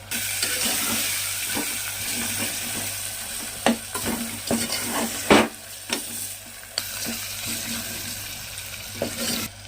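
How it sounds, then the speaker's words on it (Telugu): Mutton pieces frying in a pan for a curry, with a continuous close sizzle broken by sharp scrapes and knocks of stirring, under a low steady hum. "ఇందులో తీసి పెట్టుకున్న మటన్ ముక్కల్ని వేసి ఒక 5 మినిట్స్ వరకు ఫ్రై చేసుకున్నాము"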